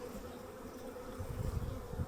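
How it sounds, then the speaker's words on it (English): Honey bees at an open hive box being closed up: a soft, continuous, low buzzing hum that swells slightly toward the end. "all the bees have migrated up to the second box"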